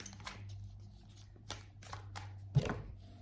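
Tarot cards are shuffled by hand: soft papery riffles and flicks come in short separate bursts against a faint low hum, close and quiet, with no talking.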